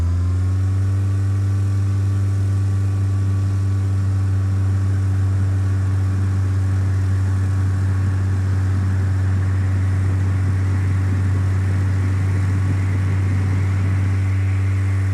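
A light aircraft engine in Flight Simulator 2004 steadily builds power for takeoff, a loud continuous drone with strong low harmonics that thickens and rises as the throttle comes up.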